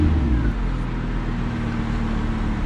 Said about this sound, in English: What I'm going to do is start the vehicle now.